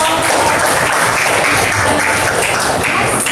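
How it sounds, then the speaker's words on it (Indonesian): An audience at a teacher-training presentation session claps together, a dense and steady round of applause that stays loud throughout. "Tepuk tangan."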